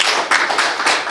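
An audience claps at a Gujarati music talk event, loud, close, dense clapping that swells in a few uneven surges.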